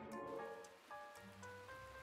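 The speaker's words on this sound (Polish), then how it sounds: "Niech deszcz spada." Rain falls in the video game Death Coming, a quiet, steady patter of droplets over a soft background hum with faint tonal game music, alone with no voices.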